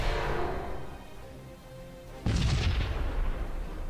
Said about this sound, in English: Commencing fire.